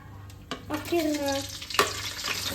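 Sliced onions hit hot coconut oil in a pan for a chicken curry, bursting into a steady close sizzle with stirring scrapes and a sharp clatter partway through, no talking.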